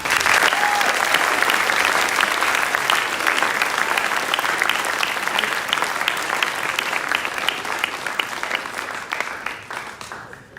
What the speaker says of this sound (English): Let's hear another round of applause for all the students.